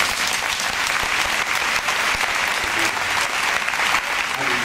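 A church congregation applauds the Lord during a French-language worship service, a dense, steady wash of many hands clapping together, close and loud for the whole stretch with no voices rising above it.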